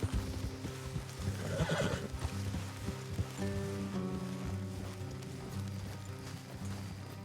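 A horse neighs loudly in Red Dead Redemption II, with hoof clip-clops and a soft patter of rain behind it.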